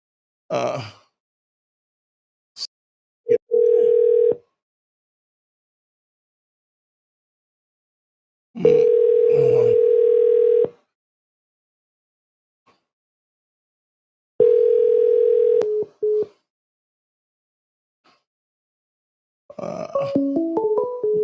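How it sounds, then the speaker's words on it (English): A phone ringtone repeats during a live stream, sounding in several spaced bursts of a steady electronic tone, with a short melodic jingle near the end and no talk in between. "Phone is ringing."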